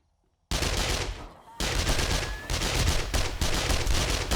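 Rapid automatic gunfire in the video game 7 Days to Die, loud sustained bursts after a brief silence, with short pauses between volleys.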